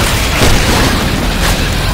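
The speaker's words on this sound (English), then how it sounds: "Throwing a Molotov!" A Molotov cocktail exploding in the zombie shooter Left 4 Dead 2, a loud, close, continuous booming roar of fire filling the whole short moment.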